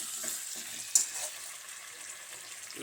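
Water goes into chicken masala frying in oil in a pan, a soft steady hiss and sizzle with one brief clink near the start, heard close and alone.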